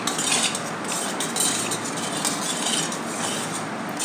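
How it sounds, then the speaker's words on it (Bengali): A spoon stirs spiced tamarind water for fuchka in a bowl, making soft, continuous swishing and faint clinks, close and fairly quiet, with no speech. "দিয়ে একটা চামচের সাহায্যে ভালো করে জলটা মিশিয়ে নিতে হবে।"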